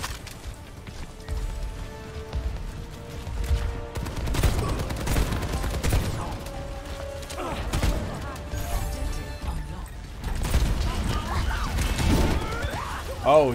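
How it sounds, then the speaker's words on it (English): Shotgun fire in the Overwatch 2 video game: several loud, sharp blasts and impacts that come in bursts among other game sounds, with a person talking over the action. "And that's a shotgun."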